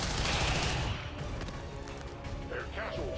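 Gunfire from the video game XCOM 2 erupts in a loud burst of shots that fades into rattling reverberation, with mechanical clicks and chatter following.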